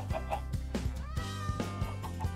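A cat in the Minecraft video game meows several times in short, rising and falling calls over a steady backdrop of game tones, fairly close and clear.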